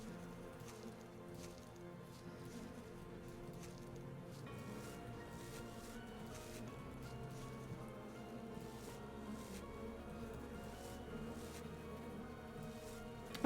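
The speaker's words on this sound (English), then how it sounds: "Buzzing." Insects buzz throughout in the horror dating game Sucker for Love, a steady, low droning swarm layered with faint crawling, squishy textures that holds at a constant level for the whole stretch.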